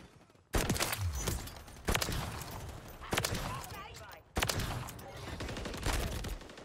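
Four heavy, evenly spaced sniper rifle shots in a shooter game, each a sharp blast with a long tail, ringing out about every one and a half seconds, with voices talking in between.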